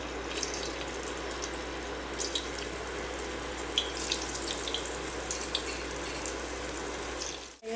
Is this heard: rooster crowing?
no